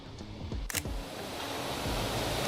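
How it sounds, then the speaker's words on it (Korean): Loud rushing water from a cascading stream of falling water in Ganghwa, a broad constant roar close by with a few soft thuds and clicks over it, no talking. "이 물소리가 세서 제 말이 잘 들릴지 모르겠지만"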